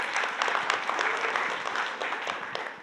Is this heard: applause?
yes